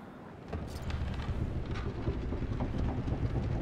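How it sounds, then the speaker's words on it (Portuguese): Wind blows through a scene in the video game A Plague Tale: Requiem, a steady rushing and low rumbling that swells slightly after the opening moment and carries on evenly, with no voices. "O vento passando"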